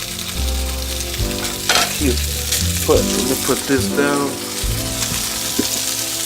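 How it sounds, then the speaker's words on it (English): Food sizzling in a frying pan, a crackling hiss beneath a person talking casually, with occasional clinks and stirring sounds. "See how it's already starting to sizzle?"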